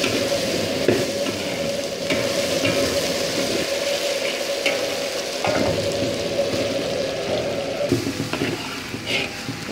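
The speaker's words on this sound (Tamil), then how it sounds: "இது நல்லா எண்ணெயில் வதக்கிட்டுங்க" Tomatoes sauté in oil in a pan for fish curry, a steady close sizzle with occasional stirring scrapes throughout.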